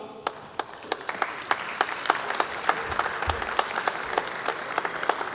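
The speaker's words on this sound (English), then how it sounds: "A round of applause for the lady as she comes to receive." Applause at a public sector audit awards ceremony as a winner comes up to receive, with distinct individual claps standing out over a softer crowd wash, moderately distant and steady.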